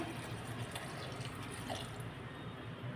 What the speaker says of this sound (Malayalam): ആവശ്യത്തിന് വെള്ളം ചേർത്ത് കൊടുക്കാം